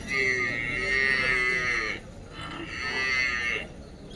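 Two long, loud buffalo moos at a cattle market, one after the other, close by, with a short pause between them and a faint background hum.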